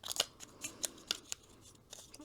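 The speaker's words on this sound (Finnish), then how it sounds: "Nyt mä otan tän lusikan ja mä alan sekoittaa tätä jauhetta." A spoon stirring a purple powder mixture in a bowl, making a series of crisp scraping and clinking strokes in an uneven rhythm, close and fairly quiet with no talking.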